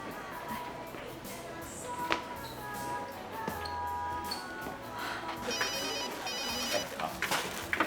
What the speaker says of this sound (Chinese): 学志，你的电话。